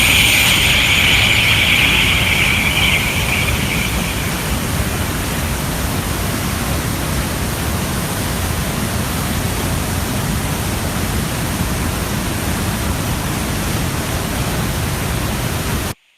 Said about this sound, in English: This is just one of the 10 different waterfalls that we visit at Trummelbach.